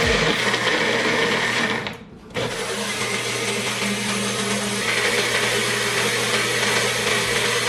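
A blender grinds a milkshake made with 2% cow's milk, a loud steady whirring close by that dips briefly mid-run before resuming, with no talking.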